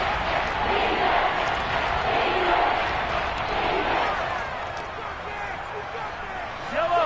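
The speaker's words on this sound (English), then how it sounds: "The crowd getting into it as we come up on a big 3rd down." Football stadium crowd at an NFL game roaring steadily ahead of a big third down late in the half, a dense, loud wash of cheering that swells and then eases slightly, with a broadcast commentator talking over it.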